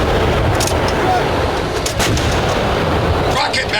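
Artillery batteries firing in a radio drama war scene, a dense, loud rumble of booming blasts with sharp cracks near 0.5, 1.9 and 3.3 seconds over continuous roar.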